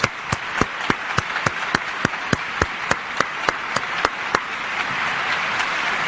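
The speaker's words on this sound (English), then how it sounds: "crowd here applauding for the wheeling of the chairs" Crowd in a radio studio setting applauds as chairs are wheeled in, a steady wash of clapping layered with a row of sharp, evenly spaced loud claps that fade out toward the end.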